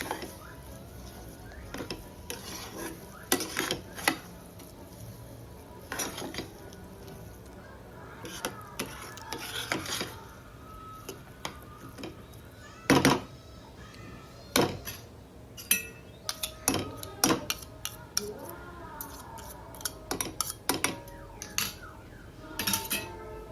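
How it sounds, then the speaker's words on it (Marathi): A spoon stirs sugar into semolina sheera in a pan, giving repeated irregular scrapes and metallic clinks against the pan over a quiet background. "साखर टाकून पूर्णपणे परत मिक्स करा"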